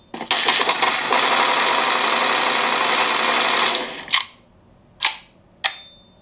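Bullet Force game audio plays through the JBL stereo speakers of a Redmi K40 phone: a dense burst of rapid gunfire for about four seconds, then three separate single shots.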